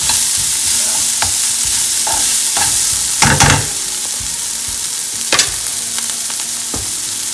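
Onion and ginger sautéing in a pan for baingan bharta, a steady sizzle and frying hiss with repeated scraping stirs of a spoon, close and fairly loud, no voices.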